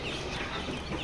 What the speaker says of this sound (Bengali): এখানে লেয়ার মুরগি বাচ্চা রয়েছে এবং হাঁসের বাচ্চা রয়েছে।